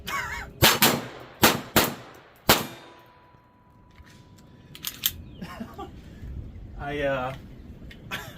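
A Taurus TX22 .22 pistol fires a quick string of sharp shots at targets, five loud cracks, then quieter clicks and metallic handling while reloading, followed by a couple more faint sounds; no talking during the shots.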